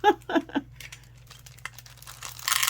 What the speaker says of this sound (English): Okay, once again, just cut the bag open.